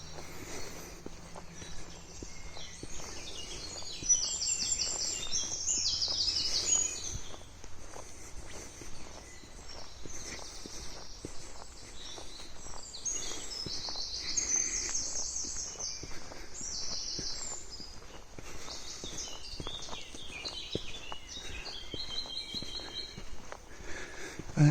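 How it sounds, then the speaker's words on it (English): Birds chirp and call high and bright in an outdoor valley, sounding in bursts over a steady run of footsteps crunching along the path. "once again we are joined by relaxing birdsong"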